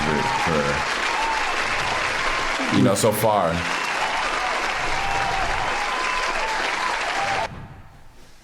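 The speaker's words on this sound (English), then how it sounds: "round of applause" A round of applause on a podcast, a dense crowd of clapping running steadily for several seconds under overlapping talk and a brief shout, then cutting off abruptly near the end.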